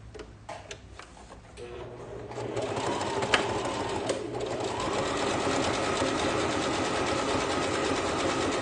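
Sewing machine stitching a fabric pencil case with a small tie decoration, a steady mechanical whir building from about two seconds and running continuously to the end, close and fairly loud after some light handling noises.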